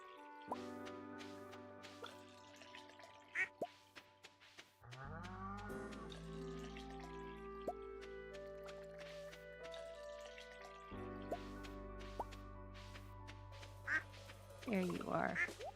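Ducks on a Stardew Valley farm quack in short bursts over steady, layered game music, with water-drip plinks and lowing cattle among the farm sounds; a person talks over it.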